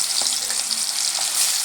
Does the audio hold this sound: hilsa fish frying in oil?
yes